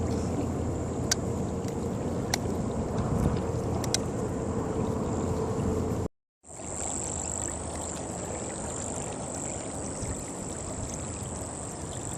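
A new small motor drives a kayak across water, a steady, close, continuous wash of motor and water noise that drops out briefly midway and then resumes, with faint bird calls in the background.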